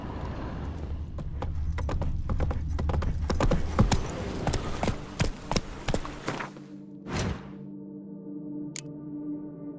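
Roach, the horse from The Witcher 3, gallops in rapid, close, loud hoofbeats that slow and fade to a few final steps and a snort.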